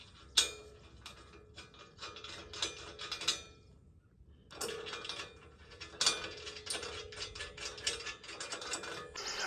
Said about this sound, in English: And then I got a 9/16 socket just to tighten it up.